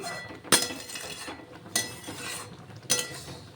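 A spoon stirs mango chutney in a pan, giving three sharp metallic clinks spaced about a second apart over a soft, continuous scraping of thick sauce, close and fairly quiet.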